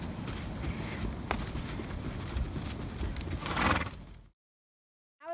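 Hooves clip-clop steadily on hard ground as a horse is led, close and fairly loud, with a louder scuffing burst near the end before sudden silence and a brief sound as it cuts back in.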